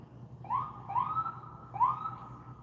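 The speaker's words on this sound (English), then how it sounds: "you guys hear them sirens?" Distant emergency siren wailing in repeated rising sweeps, three upward whoops over a low background hum, faint and far off.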